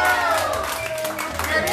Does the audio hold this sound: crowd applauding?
yes